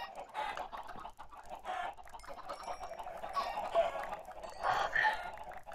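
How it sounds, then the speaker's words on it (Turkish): Chickens cluck in Minecraft, with repeated close, busy clucks and squawks filling about six seconds. "Yine tavuklar firar ediyor."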